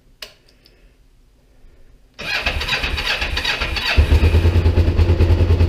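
A motorcycle engine cranks and catches after a quiet pause once its fuel is turned on, then settles into a loud, steady, close running rumble with no talking.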